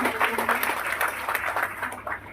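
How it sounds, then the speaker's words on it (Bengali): A crowd claps steadily, a dense crackle of applause holding at an even level for a couple of seconds. "আমার সিনিয়রের জন্য ফাটিয়ে একবার হাততালি চেয়ে নেব মিস্টার আকাশ"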